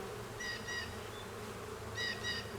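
Honeybees at a hive in early spring hum in a low, steady drone, while two pairs of sharper, higher buzzing passes from individual bees flying close by stand out near the start and the end.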